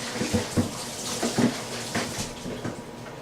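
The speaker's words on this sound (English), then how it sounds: "I'm going to rinse that out." Tap water runs steadily into a sink as a dish is rinsed, a close continuous splashing with a few brief clinks and spatters, and no talking.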